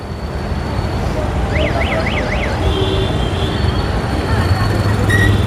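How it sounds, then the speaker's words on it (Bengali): Train on the Krishnanagar–Amghata line passes beneath National Highway 12, a steady rumble of rolling coaches with a brief warbling siren-like tone midway and muffled voices in the background. "ফাইনালি ট্রেন এখন ক্রস করছে বারো নম্বর জাতীয় সড়ক"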